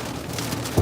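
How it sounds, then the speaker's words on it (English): Heavy rain pours down outdoors in a steady, dense hiss that fills the short moment, loud and close, with a brief low thump near the end. "And this rain is so serious."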